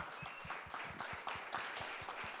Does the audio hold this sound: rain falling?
no